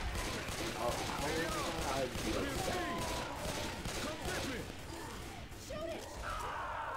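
Gunfire from Left 4 Dead 2 on Advanced difficulty during a fight against a Tank: dense, continuous shooting and chaotic game noise over seven seconds, with voices talking over it throughout.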